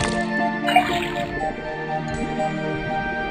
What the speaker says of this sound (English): First thing we do is put the sample of liquid into the cauldron. Then tap the faucet.